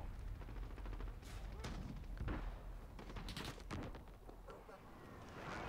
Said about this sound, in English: That was a fucking AUG right there.